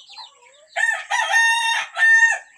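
A fighting rooster crows loudly and close, a drawn-out cock-a-doodle-doo in several rising and falling segments lasting about two seconds, heard alone without talk.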